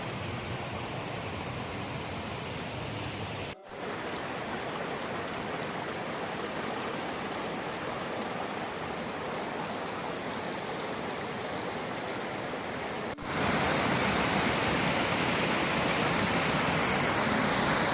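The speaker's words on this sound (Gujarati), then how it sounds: "મસ્ત પાણીના ધોધ વયા આવે છે જો" Water pours down a waterfall in the Italian Alps, a dense, steady rushing roar heard close and continuously, growing louder near the end, with no voices.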